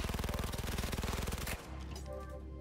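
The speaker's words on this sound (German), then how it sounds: "Ich habe meine MP hier. Das wird ihnen garantiert nicht schmecken." A submachine gun in Cyberpunk 2077 fires a fast rapid-fire burst of evenly spaced shots for about a second and a half, loud and close, then cuts off into a lingering hum.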